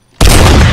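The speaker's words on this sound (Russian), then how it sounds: "У нас там звуки выстрелов из МГ." MG machine gun fire in a video game opens abruptly after brief quiet, a loud sustained burst of booming shots that fills the moment.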